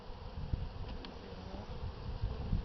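Honey bees in a spring hive being inspected with a hook tool among drone comb, a steady low buzzing hum throughout with a few brief louder bumps, close and moderately faint.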